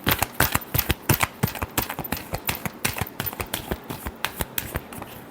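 Tarot cards shuffled by hand, a fast run of crisp riffling flutters and snaps, close and steady for several seconds with no voices.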